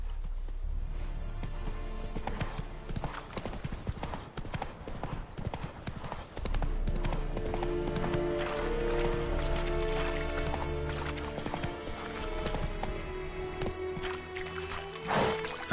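Roach the horse gallops in The Witcher 3 video game, a rapid steady clip-clop of hooves running throughout, mixed with a game music bed and ambient sound, no voices.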